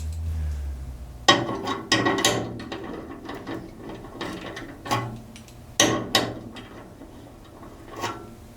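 A hand ratchet clicks in irregular bursts of sharp metallic pawl ticks, close and fairly loud, while tightening a hood shock on a Triumph Spitfire 1500, with short pauses between strokes.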